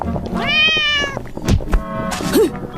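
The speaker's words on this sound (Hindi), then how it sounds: "अचानक बिल्ली कहीं से घुस गई जिसने यागा को चौंका दिया।" A cartoon cat in an animated fairy-tale story lets out one loud, drawn-out meow, followed by a thump and a shorter squeaky cry over busy background sound.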